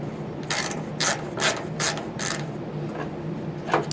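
Ratchet driving a Torx bit on a part of a gas water heater, about half a dozen crisp clicking bursts at a steady pace, close and moderately quiet, no voices.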